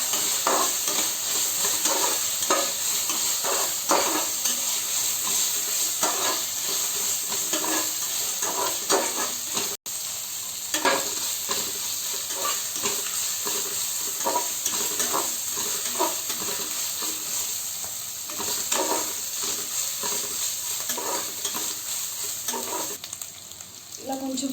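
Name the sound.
ginger garlic paste frying in a pan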